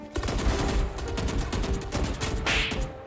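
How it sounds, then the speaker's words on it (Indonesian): Rapid gunfire from the video game Valorant, dense bursts of shots crackling continuously and loud throughout, with a sharper crash near the end. "Tembakannya dari belakang lu."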